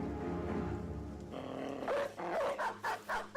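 A dog in the X-COM Files video game growls low and then lets out a run of loud, close, rhythmic barks, with no one talking over it.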